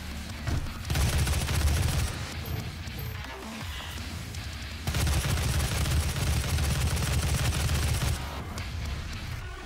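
Heavy assault rifle fire in DOOM (2016), sustained loud bursts of rapid automatic shots with a brief pause between two long volleys, close and dense, with no talk.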